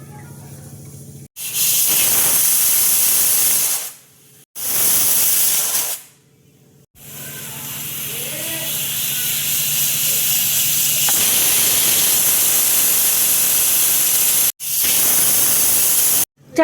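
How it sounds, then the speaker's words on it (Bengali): A pressure cooker with ragda inside whistles in long, loud, hissing bursts of steam, several separate blasts broken by short silent gaps, close and alone. "চারটে সিটি দেখো দিয়ে দিয়েছে,"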